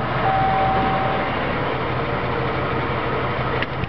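An old project car with no muffler fitted runs loud and steady throughout, a continuous rough engine drone with no clear start-up moment and no talking.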